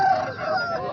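An Aseel rooster at a poultry market in Tando Adam crows once, a close, loud, wavering call lasting about a second.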